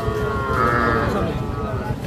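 A young deshi calf lets out a long, drawn-out moo at a busy Paragram cattle market, close and loud over background crowd noise.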